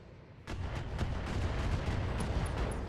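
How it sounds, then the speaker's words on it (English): Ammunition cooking off inside a mech in the BattleTech video game: a sudden onset of dense, rumbling artillery-like bursts with repeated sharp cracks rolling on for a few seconds. "There's that ammo explosion I'm looking for."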